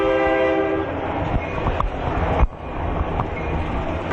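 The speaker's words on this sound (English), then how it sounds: "Well, that's convenient of the train." A train rumbles past with a sustained horn tone at the start, then a steady rolling roar with a sharp clank midway, loud and close.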